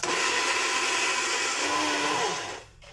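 A blender purées tomato sauce with a steady, loud motor whir and churning that holds evenly for over two seconds before winding down.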